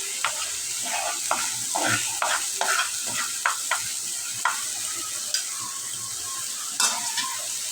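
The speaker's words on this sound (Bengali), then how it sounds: "এই মশলাটাকে ভালো করে কষাই নিতে হবে" Fish spices, turmeric, chili, salt and ground onion, garlic and ginger sautéing in a pan, a steady soft sizzle broken by repeated scraping and stirring knocks, close and without talk.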